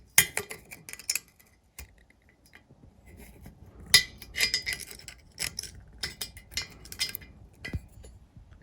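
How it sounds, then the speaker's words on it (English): Pick tool scratching and picking at melted plastic housing stuck on a bolt of a Mercruiser outdrive upper unit, irregular sharp metallic ticks and scrapes in short bursts, close up with quiet gaps between. "grab a pick tool and carefully pick away at that melted housing that is melted onto that bolt"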